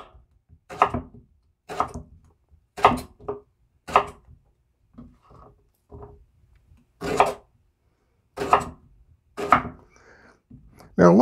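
A knife slices bananas on a cutting board, about ten crisp, separate thuds at an uneven, unhurried pace, close and clear with quiet gaps between.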